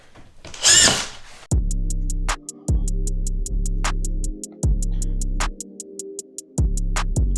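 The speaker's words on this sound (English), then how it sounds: "I want to screw this piece of drywall into this side all the way down" A power drill drives screws through a drywall patch into a support near a beam, sounding as repeated loud whirring bursts, about six in a row, each stopping abruptly with short pauses between.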